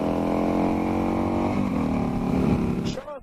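Harley-Davidson 883 Sportster motorcycle engine droning steadily while riding through corners, with a loud, even rumble for about three seconds before it fades into wind noise.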